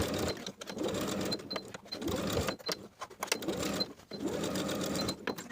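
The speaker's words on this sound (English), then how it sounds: "Sew with a 3/8 inch seam allowance." A sewing machine stitches a back facing onto the bib of a pair of overalls with a 3/8 inch seam, running in close, rapid bursts of needle clatter separated by brief stops.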